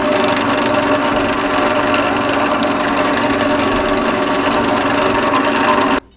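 A wood lathe spins a turned wooden eyeglasses holder while 800-grit sandpaper is held against it, giving a steady, loud whirring hum with a dense rushing texture that runs without a break and cuts off abruptly near the end.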